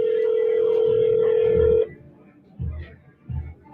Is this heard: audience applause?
no